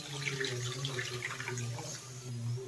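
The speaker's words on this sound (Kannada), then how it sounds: "ಈಗ ನೀರು ಹಾಕಿ 2 ಸರಿ ತೊಳ್ಕೊತೀನಿ" Water runs steadily as raw broiler chicken, sprinkled with turmeric, is washed by hand: a faint, continuous splashing flow with a low background hum and no speech.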